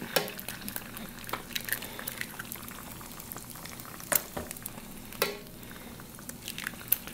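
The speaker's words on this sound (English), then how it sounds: "This skillet's frying eggs great." Eggs fry in a skillet with a low continuous bubbling sizzle, dotted with occasional crackles and a few louder pops and clinks, heard fairly close and without talk.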